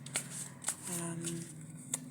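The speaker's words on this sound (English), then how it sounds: "I simply shuffle, pull 3 cards" Tarot cards are shuffled by hand during a daily reading, making soft, repeated riffling and snapping sounds at a steady rhythm beneath a quiet voice that talks throughout.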